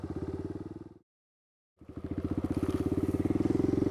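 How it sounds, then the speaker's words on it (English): Kawasaki KLX 110 dirt bike riding on wet, sticky ground, its small single-cylinder engine revving in fast pulsing bursts, cutting out for under a second, then returning and climbing louder. "this is the KLX 110 review. So far, it is such a fun little bike."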